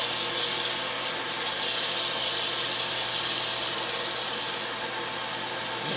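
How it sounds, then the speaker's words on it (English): Continuous broadband whir of sanding a curly maple offset pocket mirror spinning on a wood lathe, a steady, fairly loud hiss with a low motor hum beneath, no talk. "It's a matter of sanding it now."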